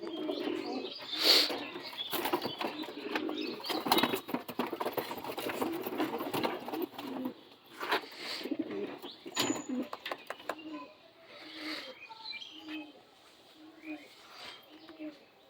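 Madras pigeons coo softly in close, irregular bursts amid chirps and shuffling, while a person talks intermittently over them.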